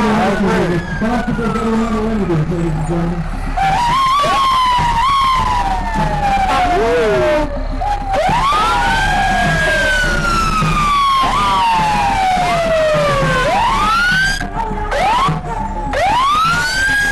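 California Department of Forestry fire engine siren at a Fourth of July parade in Truckee, loud and close, wailing in repeated rising and falling sweeps over crowd and street noise.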